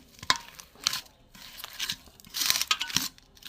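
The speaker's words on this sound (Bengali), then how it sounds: "চটকে চটকে ভালো করে মেখে নেব।" Cooled semolina dough kneaded by hand for pea-filled kachori, giving irregular bursts of squishy, crinkly pressing and tearing sounds with short quiet gaps between, close and fairly soft.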